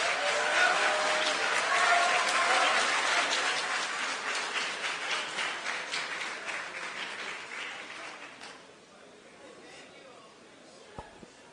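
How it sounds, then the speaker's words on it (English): Loud audience applause at a formal address fills the room at first, then thins into scattered claps and fades out, ending with a single knock. "Please control the clapping."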